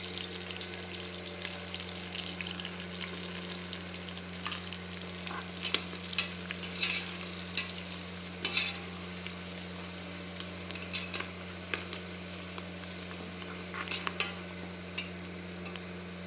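Curry masala powder frying in hot oil for tomato rice gives a steady close sizzle with occasional stirring scrapes and clicks, over a low constant hum, with no talking.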